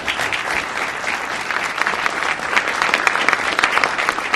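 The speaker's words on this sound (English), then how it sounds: "our audience here in the studio can give us a big round of applause for all of the candidates" A studio audience at a televised congressional debate applauds the candidates, producing a thick, continuous wash of clapping that holds steady and swells slightly toward the end.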